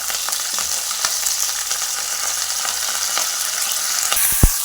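Ginger, garlic, coconut pieces and curry leaves fry in hot oil for a chicken curry, giving a steady crackling sizzle with a few sharper pops and a low spoon thump near the end, with no talking.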